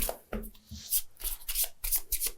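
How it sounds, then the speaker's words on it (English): Playing cards are shuffled up close in several quick riffling bursts, crisp flutters separated by short pauses, with no voices. "Shuffle quickly."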